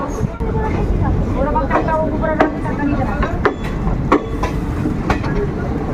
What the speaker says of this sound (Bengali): ছেড়ে বেরিয়ে গেল মালদা টাউন থেকে আমাদের ট্রেন